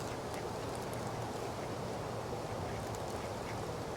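Ducks quacking faintly against a constant background wash, the calls scattered and distant.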